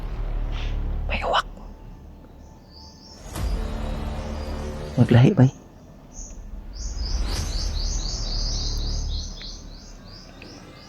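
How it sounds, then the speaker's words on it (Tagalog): A crow calls outdoors in a quiet rural area, a couple of harsh close caws among other chirping birds, while someone talks nearby. "Oh, may uwak. May uwak."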